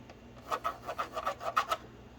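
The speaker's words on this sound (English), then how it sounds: "Let me write with a pencil." A pencil scratches across the plastic of a Longshot toy blaster in quick rhythmic back-and-forth strokes, about a dozen close, dry rasps with no talking.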